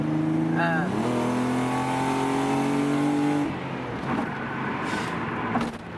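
A Nissan Fairlady 300ZX twin turbo engine revs up from inside the car, a loud, steady drone climbing in pitch, then the note drops and settles into rougher engine and road noise.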